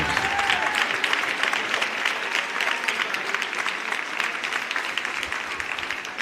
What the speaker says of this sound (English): let's please have a round of applause for all our 2024